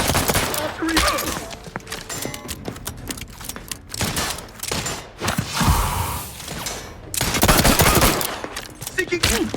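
Rapid bursts of gunfire from the video game The Outer Worlds 2, with clustered automatic shots and sharp impacts, loud and close, mixed with game sound effects and occasional voice lines.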